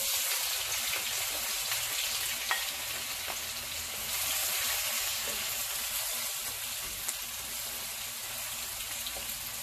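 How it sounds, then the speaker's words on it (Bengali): Chopped onions sizzling in hot oil in a pan with cardamom and cloves for pulao, a steady close crackling hiss that runs unbroken without talk. "পেঁয়াজটা একটু ভাজা হওয়া পর্যন্ত আমি অপেক্ষা করব"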